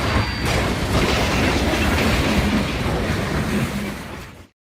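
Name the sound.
passenger train running on tracks at night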